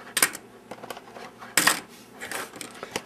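Small plastic Gokaiger Ranger key toys clink and clatter as they are pulled from their packaging, making several sharp bright jingles, with the loudest burst midway, close and alone without talk.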